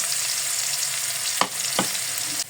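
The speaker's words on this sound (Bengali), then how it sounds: "এবার পেঁয়াজগুলো দিয়ে দিলাম একটু বেরেস্তা হওয়ার জন্য, সাথে মশলাগুলো" Onions and spices frying in hot oil for an egg curry, a steady broadband sizzle with two brief stirring scrapes near the end before the hiss drops off.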